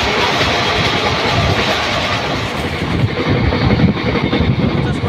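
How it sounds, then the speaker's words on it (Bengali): The Ballia Express, on the Sealdah to Bardhaman line, rolls into a station with a loud, continuous rumble of wheels and carriages that holds steady and swells slightly toward the end. "এই যে বালিয়া এক্সপ্রেস ঢুকছে।"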